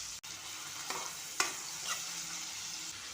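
Finely chopped onion fries in a spoonful of oil in a pan, a soft low hiss with a few gentle stirring taps and one sharper click, quiet and close with nobody talking.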